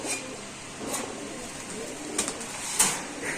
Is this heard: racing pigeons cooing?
yes